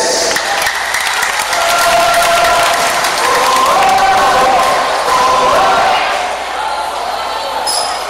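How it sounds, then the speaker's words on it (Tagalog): A crowd at a barangay basketball event in the Philippines claps loudly and steadily for a parish priest. Scattered cheers join in, and the applause fades toward the end. "palakpak po natin si Father Tun Sanchez."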